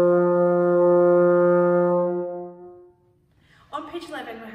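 A trombone sustains a single F in first position for about two seconds and then fades out, after which a person begins speaking.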